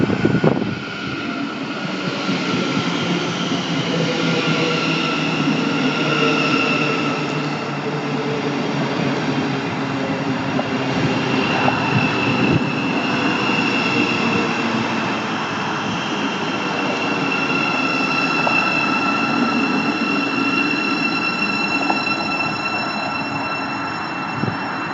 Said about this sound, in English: this train is 700-058